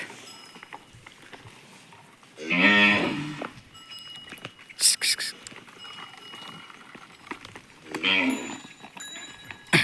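Cattle in a cowshed moo twice, a long low call early and another later, amid shuffling, clinks and faint barn noises.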